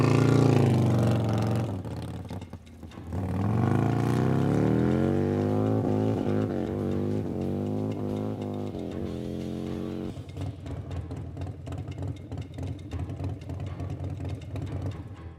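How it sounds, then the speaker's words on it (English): Harley-Davidson bagger motorcycle on a land speed record run, its engine droning loudly then climbing in pitch through rising revs and gear changes before dropping to a rougher, lower roar. "Getting ready to go out and do our 175 mile an hour license run and see what the bike does."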